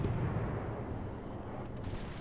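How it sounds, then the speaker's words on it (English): Ship detonation in the naval combat game World of Warships, heard as a sustained low rumbling boom with dense, heavy low-end roar throughout, steady and loud without distinct separate blasts. "Somebody just got detonated."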